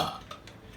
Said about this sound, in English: That was our burping challenge for tonight.